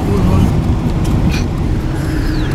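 Steady low road rumble inside a car on a two-and-a-half-hour drive, loud and continuous throughout, with a few faint higher clicks and a brief squeak over it.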